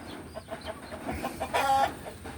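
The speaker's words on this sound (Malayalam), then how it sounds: "ഇതാണ് കോഴിക്കൾ കേട്ടോ. നല്ല നാടൻ കോഴിക്കളാണ്." Native country hens cluck and chatter nearby, with one louder, drawn-out call standing out briefly amid a low rustling background.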